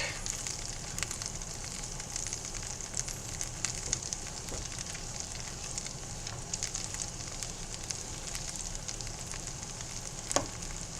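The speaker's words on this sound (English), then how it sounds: "I'm taking the other half of our butter. I'm going to let that melt all the way around so these eggs don't stick." Butter melting in a frying pan over moderate heat before eggs go in, giving a steady soft sizzle and crackle that holds evenly throughout, close and fairly quiet, with a sharper pop near the end and no talking.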